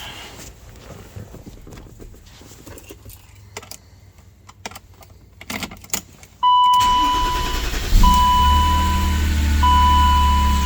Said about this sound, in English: Starts right up, drives good.